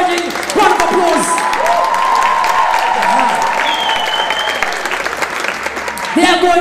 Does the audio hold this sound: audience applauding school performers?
yes